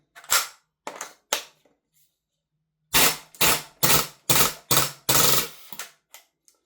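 A Lambda Defence GHM9 Gen2 gas blowback airsoft rifle firing, sharp close cracks: a few spaced shots, a pause, then a quicker string of about six shots and a couple of weaker final pops as the gas runs low.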